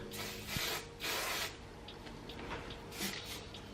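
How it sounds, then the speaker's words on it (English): Hairspray sprayed onto a high ponytail in long hair, two quick hissing bursts close to the mic followed by a third shorter spray, with no talking. "I'm going to just spray a little bit of hairspray"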